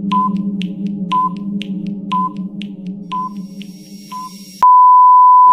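A puzzle countdown timer beeps five times at one-second intervals over a low hum, then ends in a loud, sustained steady tone.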